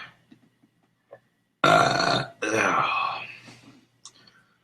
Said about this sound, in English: even my burps taste like it